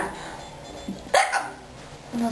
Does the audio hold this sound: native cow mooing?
no